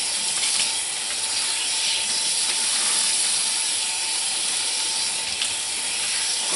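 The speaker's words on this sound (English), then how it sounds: "I'm going to go ahead and rinse this out, get all the soap out of it" Tap water runs in a steady, hissing stream while a shirt is rinsed of coconut oil liquid soap, a constant close splash with no pauses.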